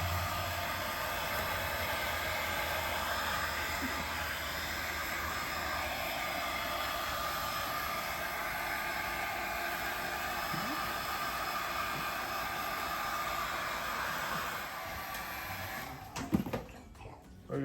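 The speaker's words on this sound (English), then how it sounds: "Keep your distance from the blow dryer from your dog." Blow dryer on a low, no-heat setting drying a puppy, a steady close whir and airflow hiss running unbroken for most of the stretch before a few handling knocks near the end.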